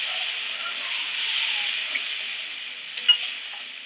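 Masala sautéing in oil for a pabda fish curry, a steady broad sizzle and hiss with a few soft stirring clicks near the end, close and continuous with no talking.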